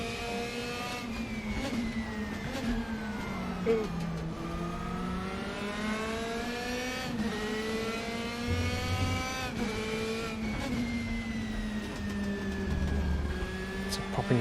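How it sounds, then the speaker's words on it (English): DTM race car engine in RaceRoom revving up and down through gears, rising and falling whine with sharp pops and crackles as the throttle lifts, close and continuous. "Popping and banging on the overrun as we come off throttle"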